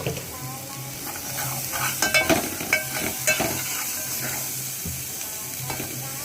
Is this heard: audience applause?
no